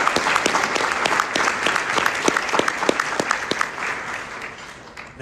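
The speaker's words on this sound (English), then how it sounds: "I want to give her a round of applause, please" An audience at a child abuse prevention breakfast applauds warmly, with dense, sustained clapping from many people that fades slightly toward the end.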